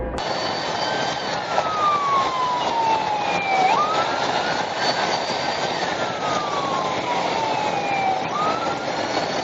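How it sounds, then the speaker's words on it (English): A police siren wails loudly and continuously, its pitch sweeping down slowly and jumping back up in long repeating cycles over road rumble. "The officers activated their lights and siren"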